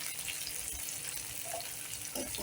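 Curry leaves fry in hot oil for a Tamil paruppu urundai kuzhambu, giving a constant close hiss and sizzle with a faint spatter near the end.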